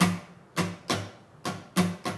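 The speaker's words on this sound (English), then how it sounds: "So the strumming pattern that we're going to be using in the song sounds like this:" Six sharp acoustic guitar strums in a down-down-up-up-down-up rhythm, each chord ringing briefly before the next, close and clear with no voices.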